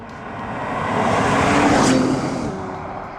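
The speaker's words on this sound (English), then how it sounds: "The engine, it's got a nice roar, but it's still very quiet for a car that accelerates so quickly." A Bentley Flying Spur's engine swells into a smooth, muted roar while driving, building to a peak midway through and easing off, with steady road and wind noise beneath.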